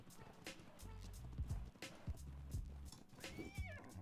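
A horse in the video game Ark Ragnarok clip-clops along in repeated hoof beats under a low droning background, with a brief whinny near the end, all faint and distant.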